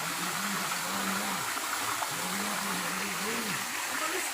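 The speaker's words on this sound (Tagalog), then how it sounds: "Diyan sa bato na yan nanggagaling ang tubig." Water flows steadily out from inside a rock on a mountainside, a soft continuous rushing with a faint low hum underneath.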